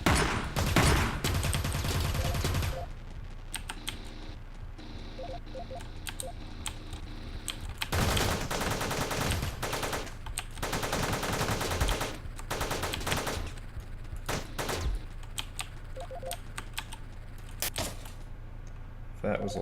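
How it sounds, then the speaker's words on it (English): Heavy gunfire from many bullets in Teleglitch, heard as long sustained bursts of rapid shots with brief pauses between them, loud and dense throughout, with keyboard clatter mixed in. "That was a lot of bullets."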